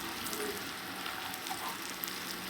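Ground spices (turmeric, chilli and cumin powder) frying and being stirred in a hot pan, a soft steady sizzle throughout with faint crackles and scraping, quiet and close.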